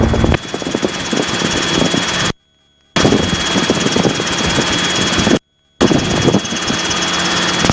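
A loud, close Robinson helicopter engine on a training flight drones with a heavy rhythmic thrum, cutting out twice for brief moments of silence.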